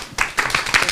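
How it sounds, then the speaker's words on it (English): Room audience at a business seminar breaks into applause, a short burst of crisp, close handclaps with a rhythmic, slightly uneven pattern throughout. "Give them a round of applause."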